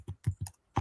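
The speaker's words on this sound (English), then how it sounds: "we can hear you typing" Faint computer keyboard typing, a few soft clustered key taps at close range, comes through a live tennis watchalong stream with no talk over it.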